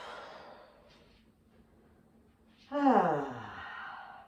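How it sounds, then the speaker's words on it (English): A deep yoga breath taken while resting in child pose: a faint inhale, then a loud, close exhale with a sighing quality that fades over about a second and a half. "Big breath in, big breath out."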